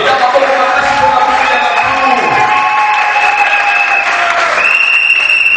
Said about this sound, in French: Acclamez fortement votre voix.